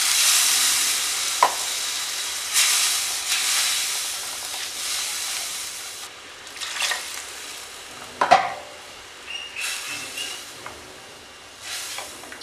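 Water poured into curry paste simmering in a pan for a Kerala-style sardine and mango curry, giving a loud, close hissing sizzle for several seconds that settles into a quieter bubbling with a few light clinks.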